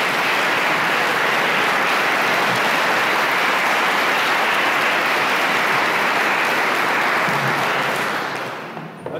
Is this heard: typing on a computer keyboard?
no